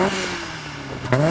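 Toyota AE86 twin cam engine revving up, a short rise in pitch near the end over a steady idle, close and fairly loud with no talk.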